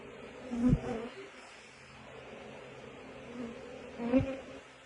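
Steady low buzzing from many honeybees in an open hive during a late-autumn inspection, with a couple of brief louder thumps or bumps; close and continuous, no talk.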